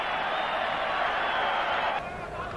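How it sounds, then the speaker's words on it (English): A rugby stadium crowd roars and cheers after a try by Springbok three-quarter Danie Gerber, a loud sustained wash of voices that drops slightly near the end, with commentary over it. "And the crowd go mad to see their hero score a lovely try."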